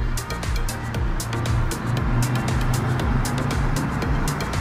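Road traffic on a French mountain route during a long-distance ride, with cars passing in a steady low rumble of engines and tyre noise that swells and fades continuously, fairly loud and close with no talk over it.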